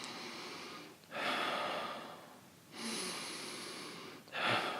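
Deep, rapid breaths drawn fully in and pushed quickly out during a breath work exercise, three strong close airy surges with short pauses between, heard alone without talk.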